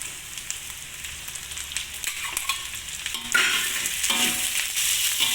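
Tomatoes dropped into a hot pan of softened onions for an egg sambal, sizzling and frying steadily while being stirred, the crackle growing louder partway through, close and with no talk.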